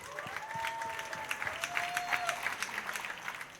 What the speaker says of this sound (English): let's give them a huge round of applause before we get kicked off